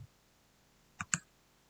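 Command typed on a computer keyboard, two quick, crisp key clicks close together in an otherwise quiet room.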